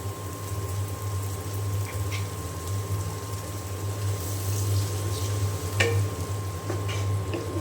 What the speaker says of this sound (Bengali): মশলা এখন পেঁয়াজের সাথে খুব ভালো করে আমি কষিয়ে নেব।